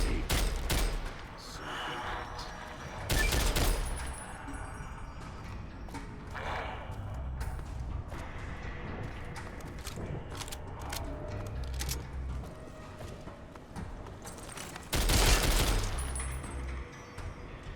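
Gunfire from the Dead Money add-on of Fallout: New Vegas, irregular bursts of sharp shots with a few louder blasts standing out over a low rumbling game background.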